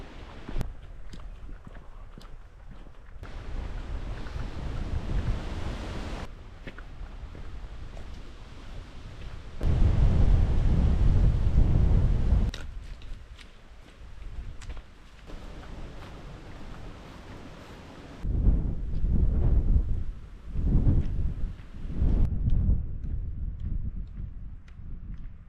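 Very strong wind on open fell land at Matterdale Common in the Lake District, buffeting hard in loud, rumbling gusts that rise and fall across the scene with heavy low-end roar.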